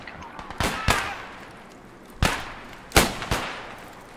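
Several sharp gunshots in the video game Squad 44 crack out one at a time at irregular intervals, each a sudden loud burst with a short decay over a quiet background.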